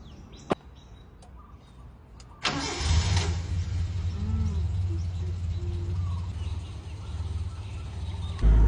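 A Mazda Familia car with electric power steering fitted cranks and starts after a few faint ticks, then its engine settles into a steady, close idle hum that runs to the end.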